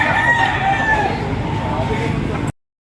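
A Spangle gamecock crows at a busy chicken market, its drawn-out call standing fairly close over steady crowd noise before it cuts off abruptly.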